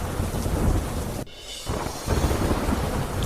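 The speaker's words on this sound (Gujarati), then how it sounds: "ભાણવડ શહેરમાં મોટી રાત્રે વીજળીના કડાકા ભડાકા સાથે વરસાદ વરસ્યો" A night thunderstorm with heavy downpour in Bhanvad town, Dwarka, brings a constant loud hiss of rain, broken by a sudden sharp thunder crack and a brief lull before the rain surges back.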